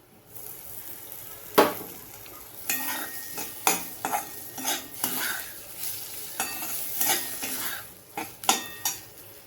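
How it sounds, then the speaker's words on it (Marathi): Tomatoes are stirred and sautéed in a pan over low heat with fried peanuts for a brinjal, potato and field bean curry, giving a soft sizzle under repeated scrapes and clinks of a spoon against the pan, with no voices. "आता टॅमॅटो टाकते."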